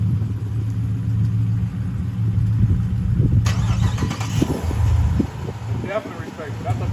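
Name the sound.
2021 Dodge Durango Hellcat engine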